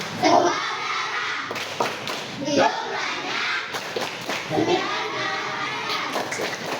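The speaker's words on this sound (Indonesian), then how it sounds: "sekarang kita bareng-bareng tepuk Al-Alaq" A group of children in an Indonesian classroom performs the Tepuk Al-Alaq clapping chant, rhythmic hand claps mixed with chanted voices, close and lively throughout.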